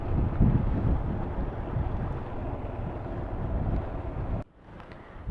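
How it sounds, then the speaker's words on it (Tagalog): Loud, steady roar of rough sea water and surf whipped up by a storm, mixed with wind buffeting the microphone on the Batangas coast, then an abrupt drop to a quieter background near the end. "Lakas yung alon, may bagyo pa kasi."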